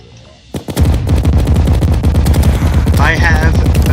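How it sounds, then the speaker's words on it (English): Explosions strike enemies in Terraria, a rapid, dense barrage of loud cracking blasts that starts abruptly about half a second in and continues without a break, with a brief tonal warble near the end. "I can hit the enemies with my explosions."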